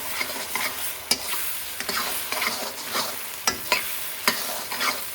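Coriander powder is stirred into spices frying in a pan, a soft close sizzle punctuated by several sharp scrapes and taps of a spoon against the pan, with no voices.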